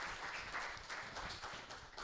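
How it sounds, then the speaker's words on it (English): A seminar audience gives a steady round of applause, soft dense clapping heard at a distance and fairly faint, without talk. "Give him a round of applause."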